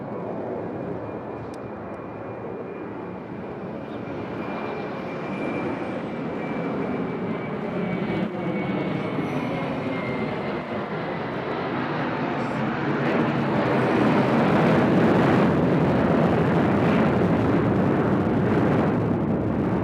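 A Southwest airliner takes off from runway 2 left at Nashville International Airport, its broad jet roar steady and close, then swelling louder toward the end, with no talk over it.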